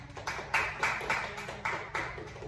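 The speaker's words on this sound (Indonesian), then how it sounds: "Tepuk tangan dulu sih." Group applause during a group guidance competition: a short stretch of steady, rhythmic clapping from a small audience, evenly spaced and moderately close.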